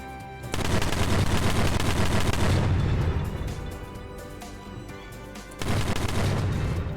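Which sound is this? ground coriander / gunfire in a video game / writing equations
gunfire in a video game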